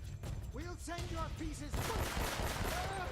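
Gunfire in the video game Uncharted, a dense rattle of shots that grows heavier in the second half, mixed with voices talking over the action.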